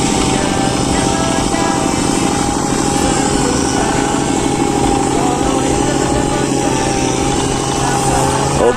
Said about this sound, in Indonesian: kita lihat dulu teman kita yang sedang menggunakan mesin matun dari Cooper Teknik